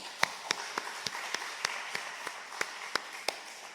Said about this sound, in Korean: 한번 박수 한번 해볼까요?